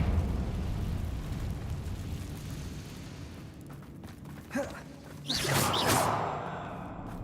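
A Confringo blasting spell goes off in Hogwarts Legacy: a sharp crack and then a loud, bright fiery burst that swells and fades over about a second, standing out above a low ambient rumble.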